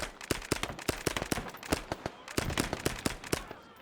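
Rifle gunfire in a SOG game rattles off as a rapid series of sharp, crackling shots in irregular clusters, moderately loud with a faint echo behind them.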